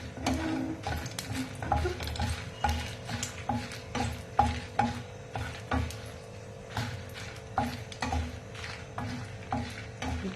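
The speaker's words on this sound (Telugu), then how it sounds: "మనం ముందుగా ఎండుమిర్చి, వేయించుకుంటామండి." Dried red chillies sizzle and crackle in hot oil in a pan while being stirred, with a steady bed of frying noise broken by frequent scraping clicks from the spatula; no one speaks.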